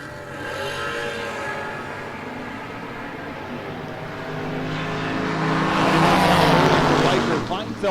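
A 1982 GMC S15 makes a drag racing run at a strip, its engine roaring and swelling louder as it passes close, with an announcer talking over the noise.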